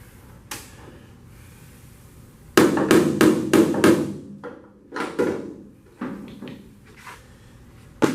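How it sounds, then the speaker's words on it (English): Sharp metallic body-hammer taps on a 1969 Chevy C10's sheet metal, a quick burst of five blows followed by a few scattered strikes, close and loud in a quiet workshop. "Body hammer."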